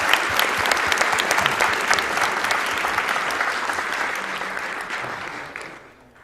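Audience applause at a Kaizo speedrun event, dense sustained clapping from a crowd filling the whole stretch, loud and steady before tapering off at the end.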